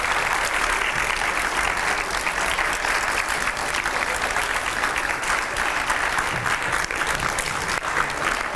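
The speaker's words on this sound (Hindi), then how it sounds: "जोरदार तालियां रुकनी नहीं चाहिए।" Sustained, loud studio-audience applause welcomes Uma Bharti onto a TV9 show, an unbroken dense roll of clapping at even strength with no voices on top.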